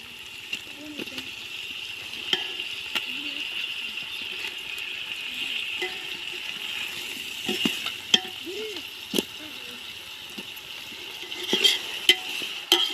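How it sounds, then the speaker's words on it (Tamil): Chopped tomatoes sautéing in a pan for mushroom biryani give a continuous frying hiss, with scattered scrapes and knocks from stirring and a voice talking quietly underneath. "பாருங்க தக்காளி நல்லா வதங்கிச்சு வதங்கி வருது"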